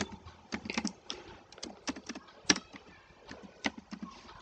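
A file name is typed on a computer keyboard in a quick, uneven burst of close key clicks with short pauses between words, quiet and alone in a still room.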